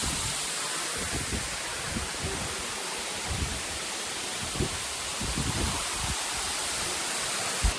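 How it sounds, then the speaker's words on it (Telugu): Tummalog waterfall pours blue water in a broad, steady rush of white noise, constant and fairly close, with faint low thumps and movement underneath and no talk. "ఇదిగోండి ఇదన్నమాట ఇక్కడ తుమ్మలోగ్ వాటర్ ఫాల్స్."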